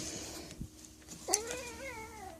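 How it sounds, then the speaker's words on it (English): A house cat meows once, a clear rising-then-falling call that stands out near the middle over a quiet indoor background with no talk. "My cat."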